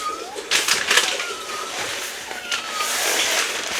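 A cat meows several times in soft, high, drawn-out calls over a steady background hiss, fairly close but not loud, with no talking.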